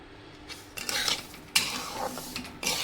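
A spoon scrapes and stirs dry wheat semolina roasting in a metal pan, several short gritty swishes and clinks close by, with no voices.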